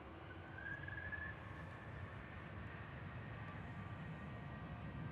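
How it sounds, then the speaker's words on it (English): A Boeing 737-900 departing Amsterdam Schiphol for Oslo gives a steady, distant jet engine roar with a faint rising whine, holding even and broad throughout. "Next up, 737-900 going to Oslo."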